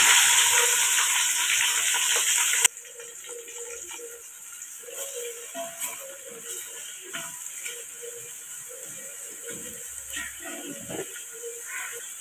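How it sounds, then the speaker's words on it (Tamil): Onions hit hot oil already holding garlic and green chillies for chicken mandi biryani, bursting into a loud, hissing sizzle. The sizzle suddenly drops to a quieter crackle, broken by scraping and stirring clicks, with no talking. "வெங்காயம் சேர்த்துக்கலாம்."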